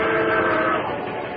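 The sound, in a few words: fast-approaching train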